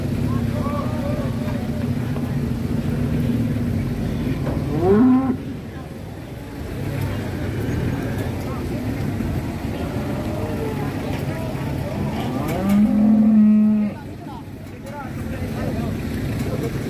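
Simmental cattle at a livestock market in Boyolali, Central Java, lowing loudly in two long moos against steady engine rumble and crowd noise, with voices talking in the background.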